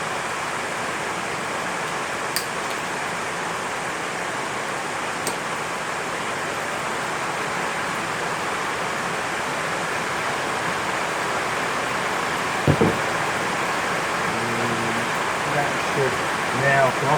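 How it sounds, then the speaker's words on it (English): Heavy rain pours down outdoors in a steady, dense hiss that fills the scene without pause, with a couple of sharp ticks and a short knock near the end and a faint voice in the background. "it's pouring down outside"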